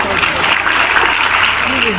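Children clapping their hands together in a classroom activity, a brief burst of close, dense applause with voices talking over it.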